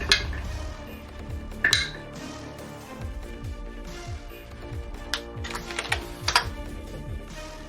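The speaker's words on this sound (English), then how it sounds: "It sounds oddly like a cherry keyboard." Heavy metal boots in a Reign of Winter tabletop game give a quick run of crisp, clacking clicks, like a Cherry mechanical keyboard being typed on. The taps are irregular and fairly faint, with no voices over them.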